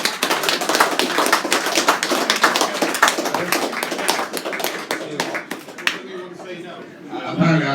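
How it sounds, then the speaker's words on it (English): An audience at a live debate event gives a round of applause, with sharp, close, uneven claps and some laughter for about six seconds before the clapping tapers off and a voice returns. "So a round of applause for them"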